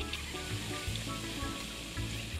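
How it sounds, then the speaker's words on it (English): A small sand-castle bath bomb fizzes in wet hands, a soft, continuous crackling hiss close by with faint low sloshing beneath, and no voices during it. "It feels so weird fizzing in your hands."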